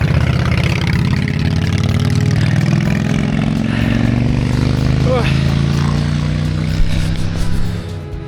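A small engine-powered bicycle climbs the steep Ratagan Pass road, its steady droning hum holding a constant pitch throughout with a slight rise near the end.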